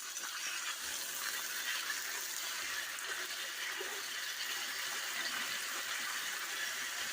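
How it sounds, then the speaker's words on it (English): Water pours steadily into a pot of Turkish lentil soup, a constant, even gushing hiss that runs uninterrupted for several seconds with no voices. "now I'm going to go ahead and start adding the water."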